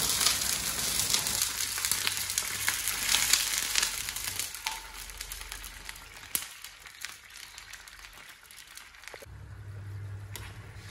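Loud, steady sizzling hiss as rice water is poured into a hot oil tempering, crackling on and off and easing slightly toward the end.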